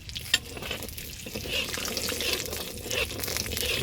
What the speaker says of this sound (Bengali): ভালো করে আমড়াগুলোকে ভেজে নেব